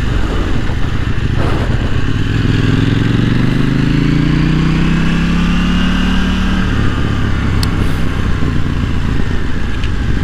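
A KTM Duke 790 motorcycle ridden slowly at very low revs, its engine a loud steady drone under heavy wind roar, with a slight rise and fall in pitch as it lugs along.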